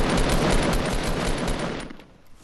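Sustained burst of rapid automatic gunfire in a shooting video game, loud and dense, fading out near the end with no talking.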